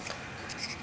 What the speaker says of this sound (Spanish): Puedo cortar con mis tijeras